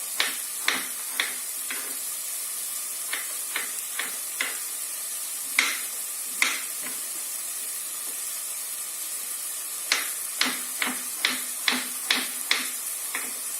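Onions frying in a pan for lentil soup, a steady soft hiss broken by clusters of sharp spatula scrapes and taps as they are stirred, close and alone.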